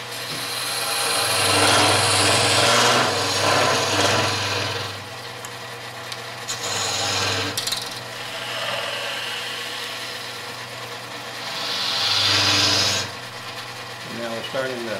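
A gouge hollows end-grain wood spinning on a lathe, with recurring loud rasping cuts over a steady motor hum and someone talking at times.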